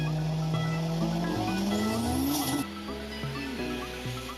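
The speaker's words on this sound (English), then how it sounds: "this guy who holds the world record for the fastest side wheelie in a car" A car driven on two wheels in a record-setting fast side wheelie, with a loud sustained engine drone rising in pitch over squealing tires before the tone drops and steadies.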